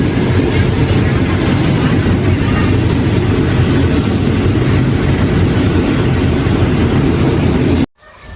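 Local train 447 from Surat Thani to Sungai Kolok rolls along with a loud, steady rumble and rushing wind noise, heard from on board, cutting off abruptly near the end.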